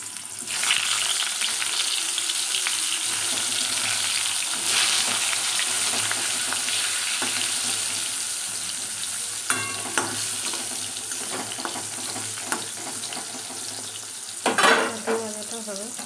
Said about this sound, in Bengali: আর এই পটল ভাজাটা বসিয়ে দেবো।